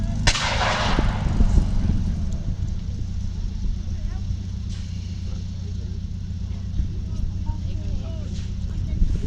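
British 25-pounder guns fire during a WW2 battle re-enactment: one loud blast booms early, then a low rumbling engine drone carries on, with a voice talking over it.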